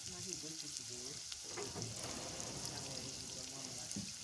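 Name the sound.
onion frying in hot oil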